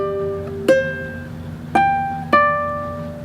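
Ukulele picked fingerstyle on the 1st and 2nd strings, climbing up the fretboard: three distinct plucked notes ring out alone, each decaying slowly, close and moderately loud.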